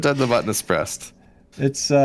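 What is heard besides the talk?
None of the usual background noises is heard.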